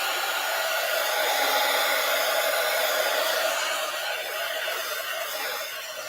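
A hair dryer blows steadily and loudly up close while drying a craft project, a continuous broadband rush of air that eases slightly near the end.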